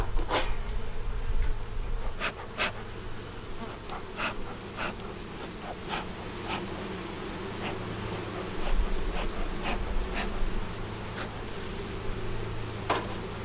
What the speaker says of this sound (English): There was a lot of bees along the edge there